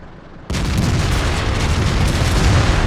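Tank guns firing in the World of Tanks video game: after a brief quiet start, a loud, dense barrage of booming shots and rumbling blasts sets in and runs continuously to the end.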